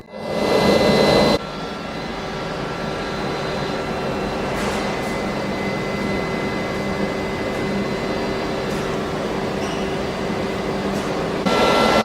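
Gas welding torch with a number 5 nozzle, working on titanium, gives off a steady roaring hiss that runs on without a break. It is louder at the start and swells again at the end.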